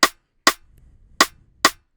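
Four short, sharp percussive hits in an uneven pattern, each crisp and bright with a quick decay, with a faint low rumble between them.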